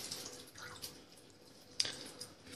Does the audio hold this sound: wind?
no